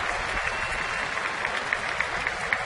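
Baseball stadium crowd at a Pirates–Houston game cheering steadily in support of the pitcher during a 2-2 count, a continuous dense roar of many voices with scattered claps, loud and sustained throughout.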